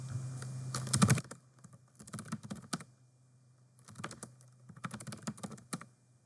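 A git command typed on a computer keyboard, heard as quiet close bursts of rapid key clicks split by short pauses, with a faint hum under the first burst.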